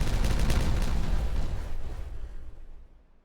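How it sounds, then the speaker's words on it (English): Dynamite going off in the beaver city-building game Timberborn: one loud, booming blast with crackling debris that rumbles on for about two seconds before fading away, with no voices over it. "Nice explosion."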